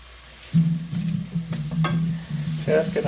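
Mushrooms sizzle in a hot pan for a creamy Cajun chicken pasta, a steady close frying hiss broken by a few scraping stirs, with no talking.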